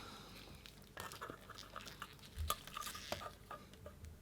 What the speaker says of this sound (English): Now I'm going to mix it well, scraping the edges.